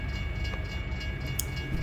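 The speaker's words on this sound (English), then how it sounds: "while we wait on the train to get out of our way" A train rolling past in American Truck Simulator, heard as a steady, loud rumble with faint rhythmic clacking of railcars, no voices over it.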